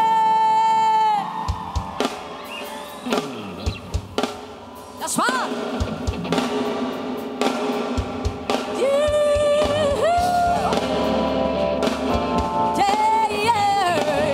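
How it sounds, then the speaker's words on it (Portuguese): A church congregation yells, whoops and cheers for Jesus, loud and continuous. Music plays underneath, and a voice shouts over the crowd. "aplauda o Senhor, faça barulho para ele"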